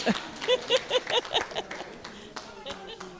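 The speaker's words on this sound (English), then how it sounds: "Let's clap." Scattered clapping from a small audience at a plastic waste management dialogue session, a few close hand claps in quick bursts for about a second and a half, then fainter sparse claps with voices murmuring underneath.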